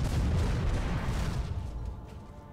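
Ships fire their cannons in the naval battle game Port Royale 4, producing a deep booming volley that rumbles and fades away over a couple of seconds, with no talking.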